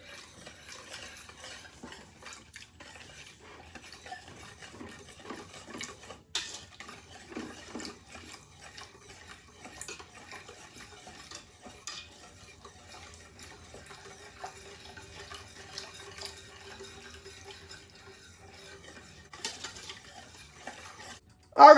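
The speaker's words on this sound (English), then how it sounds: "Now we're going to add in 2 cups of my favorite milk, evaporated milk," Evaporated milk whisked in a pot over medium heat, a quiet, steady scraping and stirring with faint metallic clinks of the whisk against the pot, close and continuous with no talking.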